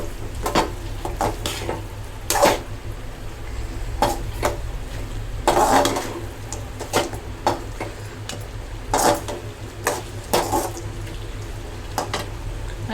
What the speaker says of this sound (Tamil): அப்படியே சுருள கிண்டணும்